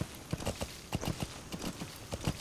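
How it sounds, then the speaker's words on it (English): Horse hooves clip-clop in Metal Gear Solid V: a steady, moderately quiet walking rhythm of hoof strikes against a soft game background. "Apparently we can hide on this horse."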